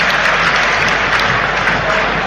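A football crowd at Preston's stadium, during a Preston versus West Brom match, gives steady, loud, dense applause for the player Potts, a continuous wash of clapping with no voices on top.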